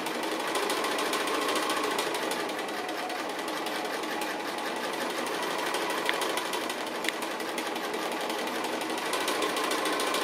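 Sewing machine stitching over swirly lines on an applique quilt piece, a fast continuous mechanical hum and rattle running steadily and close for the whole stretch.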